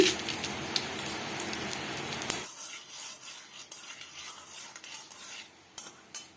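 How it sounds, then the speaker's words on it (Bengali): Dry red chilies and panch phoron fry in hot oil in a pan, giving a loud, dense crackle for a couple of seconds that then drops to a quieter sizzle with a few faint scrapes. "শুকনো লঙ্কা 5 ফোড়ন ভাজা হয়ে গেছে।"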